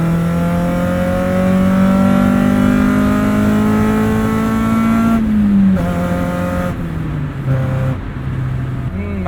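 A 1996 Acura Integra race car's engine and intake roar from inside the car, its pitch rising steadily through a long pull before dropping through gear changes, loud and continuous with faint voices underneath.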